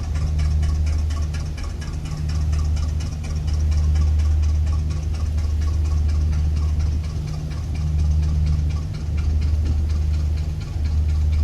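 An engine-powered water pump draws irrigation water from the Nile, a steady low droning hum with a faint knocking rhythm that swells and eases slightly, heard close and alone.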